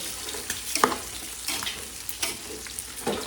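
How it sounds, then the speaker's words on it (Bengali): Food being stirred in a deep cooking pot, several scraping and sizzling strokes at an uneven rhythm over a low continuous frying hiss, close and moderately loud. "অল্প সময় একটু নাড়াচাড়া করে নেব"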